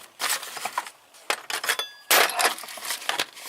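Allen keys rattle and clink against each other as they are handled in a shop toolbox, coming in several short metallic bursts with brief pauses between them.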